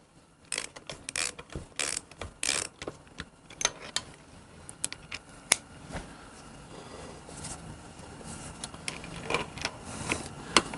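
Ratcheting clicks and metallic mechanical ticks from tightening bolts on a Harley Davidson VL front end, coming in irregular bursts at close range with no talk.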